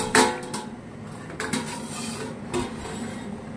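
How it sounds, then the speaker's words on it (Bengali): A metal lid is lifted off a cooking pot on the stove, giving a few close clanks and knocks spread out over a couple of seconds. "ঢাকনাটা তুলি, এক হাতে তো অসুবিধা হয়"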